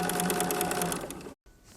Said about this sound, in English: you're just going to stitch all the way down, sewing together your half square triangle unit